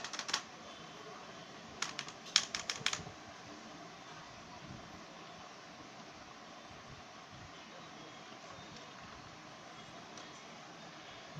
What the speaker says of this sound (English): Generally, this mechanical keyboard used for typing,